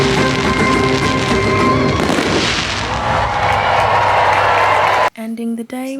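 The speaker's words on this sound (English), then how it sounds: "The fireworks show starts in like 15-20 minutes" Fireworks show on a Disney Wish cruise ship, with dense crackling bursts and booms under continuous crowd cheering, loud and close, then cutting abruptly to a brief quieter moment at the end.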